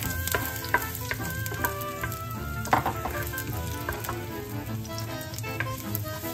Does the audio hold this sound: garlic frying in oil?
yes